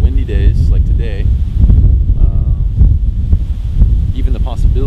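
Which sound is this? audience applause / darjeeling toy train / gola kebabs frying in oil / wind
wind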